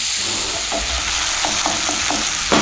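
Tofu omelette sizzling in a pan on turned-down heat, a steady close hiss with a few soft taps and scrapes of a spoon poking holes in it, and no one speaking.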